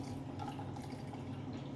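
Filtered water is poured into a container while mixing gluten-free sourdough, a faint steady trickle close by with a low background hum.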